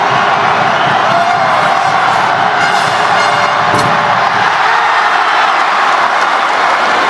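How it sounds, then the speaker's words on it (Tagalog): A packed basketball arena crowd at an MPBL South Finals Game 3 playoff between Biñan and Quezon roars and cheers in a loud, continuous wash of noise with a brief whistle-like squeal partway through. "Ingay ng crowd natin."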